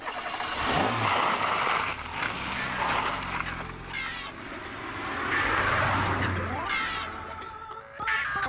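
An 8-valve VTR car engine pulls hard while driving, its mid-pitched drone rising and falling through several surges of acceleration, loud and continuous with no voices.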